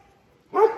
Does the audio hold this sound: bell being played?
no